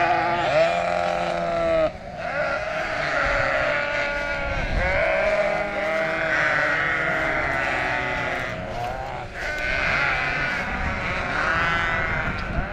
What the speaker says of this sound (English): So this is the group of sheep that we have weaned.